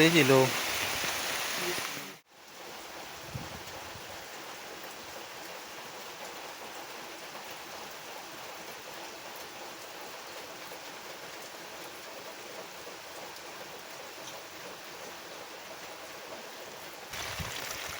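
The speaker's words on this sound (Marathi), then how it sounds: "पाऊस" Steady rain falls over a garden, a continuous even hiss that holds at moderate level for most of the stretch, briefly cut near the start, with louder wash at the beginning and end.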